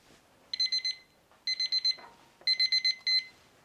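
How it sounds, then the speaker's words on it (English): A kitchen timer goes off while a Dutch baby pancake bakes, giving three clear bursts of rapid electronic beeps, about four quick pips each, close and fairly loud with nothing else behind them. "Okay, the timer's off,"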